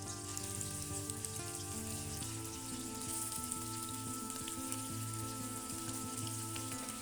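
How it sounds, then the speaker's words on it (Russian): Chicken legs fry over medium heat in olive oil and butter, giving a steady, close crackling sizzle that holds constant throughout with no voices. "И на среднем огне обжарить куриные ножки."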